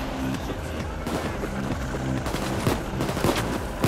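Sustained automatic gunfire rattles steadily through a video game bank robbery, a dense, moderately loud stream of shots with faint voices in the background.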